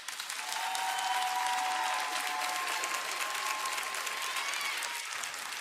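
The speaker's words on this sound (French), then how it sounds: "Applaudissez-la." An audience claps steadily at a French-language church service, a dense, sustained wash of applause from a crowd that holds fairly even for several seconds without any voices.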